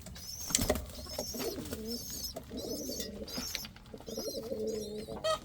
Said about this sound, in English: Just give you guys a quick second to take a look at the birds.